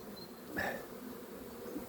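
Faint honeybees hum softly around hives in the background, with one brief louder buzz as an insect passes close, no speech.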